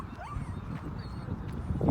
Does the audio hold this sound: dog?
yes